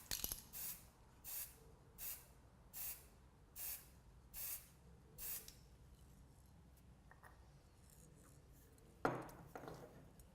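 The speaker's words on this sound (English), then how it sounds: "use the colour match lacquer and again overspray the area with 2 or 3 light coats" Colour match lacquer is sprayed from an aerosol in light coats, about seven short, evenly spaced hissing bursts from close by, then quiet with a single sharp click near the end.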